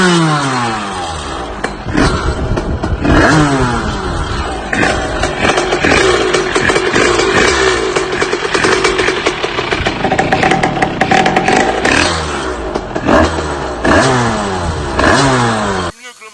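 Motorcycle fitted with a new Most high-mount exhaust, 110-80 size, revving hard through repeated rising and falling throttle blips, loud and close throughout with no talk.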